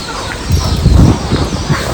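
Chickens on a small poultry farm make a dense, continuous low clucking and murmuring, with a louder swell in the middle and nothing rising clearly above the flock.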